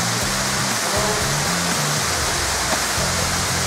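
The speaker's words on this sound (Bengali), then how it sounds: "এইটাই ঝর্ণাটা, নিচে এটা তুমি" Rushing waterfall on a road trip in North-East India between Bhalukpong and Dirang, a dense, steady roar of falling water that fills the whole clip with no pauses.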